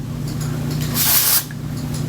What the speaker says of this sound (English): I have this Amiga Undone Volume and Matte Texture Spray.